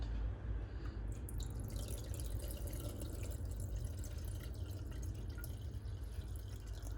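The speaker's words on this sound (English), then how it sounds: "Okay, so I'm just gonna add a little bit more liquid." Liquid poured into a kombucha jar gives a steady, close trickling and dripping wash that runs unbroken for several seconds, with no voices over it.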